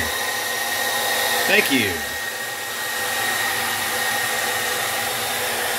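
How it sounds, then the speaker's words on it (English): A hot-air dryer blows steadily on the original price sticker of a carded 1988 Teenage Mutant Ninja Turtles Donatello figure, a close whooshing hum with a brief sweeping whine partway through and a short spoken phrase. "We're just gonna heat up the sticker."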